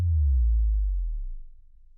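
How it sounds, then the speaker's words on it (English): A very low synthesized bass tone booms and then fades out over about two seconds, with a slight wavering from phase shifting and nothing else heard. "you hear that amplitude shifting, actually that phase shifting"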